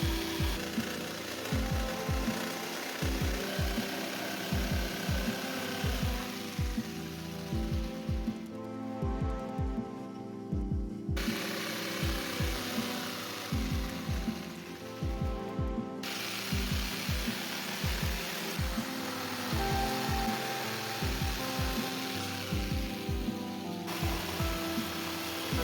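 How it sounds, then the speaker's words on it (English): A power saw cuts through 5 mm plywood in quick repeated strokes, a rapid rhythmic chatter that runs in long bursts with brief pauses between cuts, close and fairly quiet. "To save weight, I cut the sides out of 5mm plywood."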